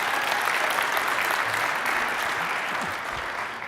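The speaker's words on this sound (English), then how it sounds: "Big round of applause for Terry's beautiful wife, Trish Anglin." Event audience clapping steadily in a dense, sustained wash of applause, moderately loud and continuous throughout, tapering only slightly at the end.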